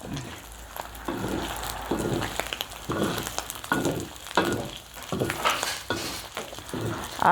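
Pork skin fries in rendered pork fat to make cracklings, a continuous loud sizzle broken by repeated stirring scrapes and clinks in the pan.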